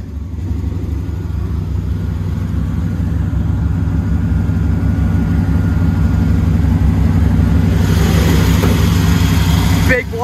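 A 1981 Chevrolet C10 pickup's 454 big block V8 with headers runs loud and steady near the mic, a deep rumbling idle that holds throughout, with a brief rise in intensity near the end.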